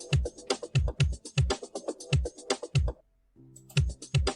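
Mouse clicks and keyboard keystrokes for copy-and-paste shortcuts come in crisp, close, irregular taps with short pauses between them during sound editing in Scratch 3.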